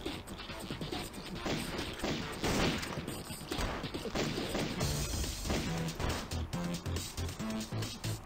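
Blunderbuss gunfire in the mobile shooter Raze 3, a dense run of loud blasts and crashing impacts mixed with mechanical clatter and game music, continuous throughout.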